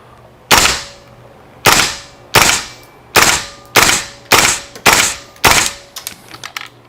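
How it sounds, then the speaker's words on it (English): A KWA LM4C gas blowback airsoft rifle running green gas fires seven or eight loud, sharp single shots at a steady pace, each with a crisp mechanical clack and short decay, close up with no talking. "Well, it's shooting below 400 feet per second"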